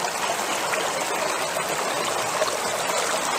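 Water rushes steadily through a fluid bed gold trap under fairly decent pressure, a continuous close hiss and gurgle like a stream without pause.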